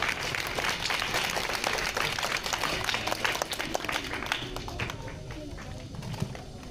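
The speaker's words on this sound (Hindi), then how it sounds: "तालियों से स्वागत करो, आवाज नहीं आ रही है।" An audience at a 26 January Republic Day celebration applauds to welcome the staff, a dense, sustained patter of clapping that thins out toward the end, with a voice speaking over it.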